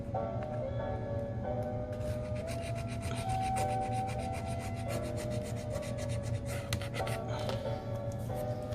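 Leftover adhesive is scraped off an iPad mini A1432 during a digitizer repair, giving close, quiet, rapid rubbing and scratching strokes in irregular bursts with a faint tonal hum underneath.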